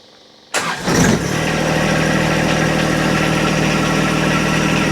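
A John Deere 2025R compact tractor engine cranks briefly and catches, then settles into a loud, steady idle close by.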